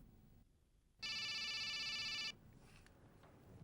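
A phone rings once in a single bright electronic trill lasting just over a second, clear and close against a quiet room.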